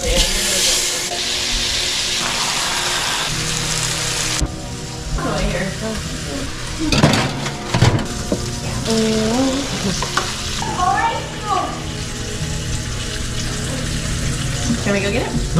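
A hamburger patty fries on a camping stove, giving a steady, fairly loud sizzle throughout with clatter and stirring sounds on top and occasional voices speaking.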